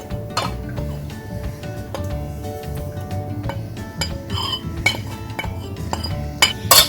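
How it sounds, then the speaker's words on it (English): A spoon clinks and scrapes around a bowl as turmeric, salt, garam masala, pepper and chili powder are mixed together, giving irregular close metallic taps and rattles with a few sharper clinks near the end. "Mix it. Mix it well."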